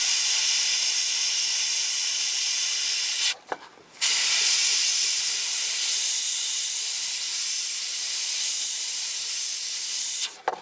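An airbrush sprays paint to lay down shadows in a steady, close hiss that breaks off briefly twice before resuming.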